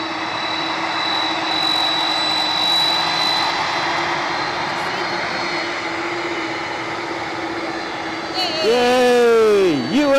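A Delta Airlines jet arriving at Edinburgh Airport gives a steady whining engine hum with a sustained tone. Near the end a sharp rising and falling whine sweeps over it.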